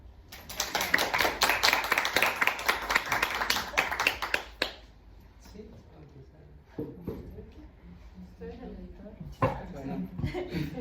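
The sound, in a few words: audience applause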